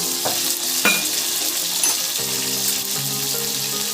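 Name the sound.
chopped tomatoes added to frying cumin in a pan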